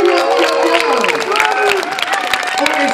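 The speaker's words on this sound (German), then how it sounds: "Können wir nochmal Applaus haben für die" An audience at an outdoor cannonball diving contest claps and cheers in a dense, continuous wash of applause while an announcer's amplified voice talks over it.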